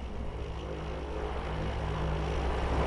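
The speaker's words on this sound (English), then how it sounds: "We do have the airplane here." Steady, loud propeller airplane engine drone at a farm-map airport in Farming Simulator 19, a continuous low rumble that swells slightly toward the end with no voices.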